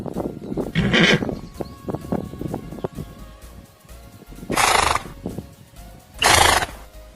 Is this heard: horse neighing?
yes